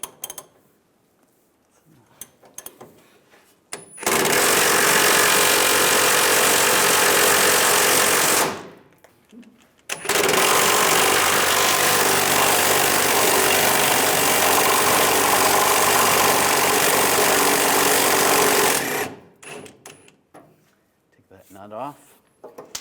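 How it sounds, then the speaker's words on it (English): An impact wrench or similar power tool runs on a 24mm leaf spring shackle nut on a 2007-2013 Chevrolet Silverado, two loud sustained bursts of about four and nine seconds close by, separated by a short pause, with quieter handling noises around them. "Now I'm going to use a 24mm socket on the nut right here and a 24mm socket on the bolt."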